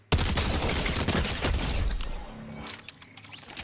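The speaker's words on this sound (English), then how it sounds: "20 meters out with a blue rarity combat SMG" Rapid automatic gunfire from a blue rarity combat SMG in Fortnite, a loud dense burst of shots that runs for about two seconds, then fades with mechanical rattles, no voices.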